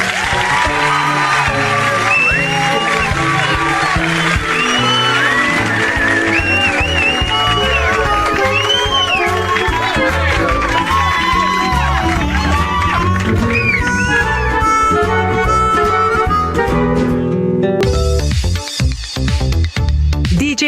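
A studio audience on a Turkish TV show cheers, whoops and claps loudly and continuously, with shouts rising over the din and music mixed in, before the noise cuts off near the end.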